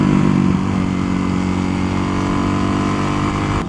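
A motorcycle running on race gas idles steadily and loudly up close, a rough, continuous engine drone with a brief louder burst at the start, heard alone without talk.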